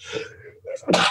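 One close sneeze: a sharp inhaled build-up followed by a loud, explosive burst of breath.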